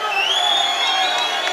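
A packed bare-knuckle boxing crowd cheers, whoops and shouts continuously at a lightweight title fight, a loud dense roar with high whistles and yells threading through it.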